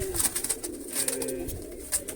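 Pet pigeons coo softly and repeatedly in a loft, close by, with low rolling calls over a steady hum of background noise and no speech.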